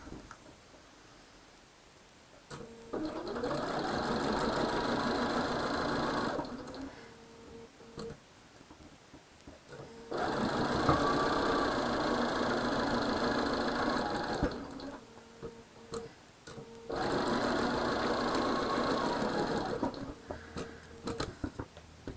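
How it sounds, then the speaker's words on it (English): A sewing machine stitches quilt block pieces together in three long, steady whirring runs separated by short pauses, close and clear with no talking. "I'm going to sew these two together first."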